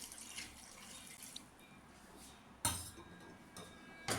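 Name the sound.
pouring water into cooking pot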